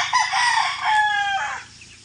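A farm chicken gives a loud, close, drawn-out crow-like call that rises and then trails off, heard alone with no talking.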